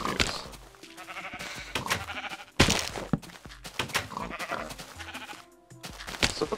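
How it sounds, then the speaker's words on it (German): Sheep bleat repeatedly in the Minecraft video game, several short bleats over a busy background of game music and sound effects, with a louder thunk partway through. "ich möchte erstmal kurz die Schafe ernten"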